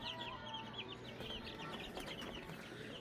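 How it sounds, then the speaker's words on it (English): Chickens cluck and chatter steadily over constant background noise, several birds overlapping without pause. "look at the chickens."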